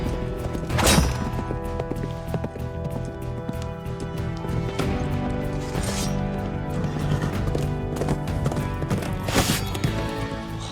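Horses move about with dull hoof thuds and occasional sharp impacts over a dense tonal backdrop, the sound staying moderately loud and fairly constant throughout.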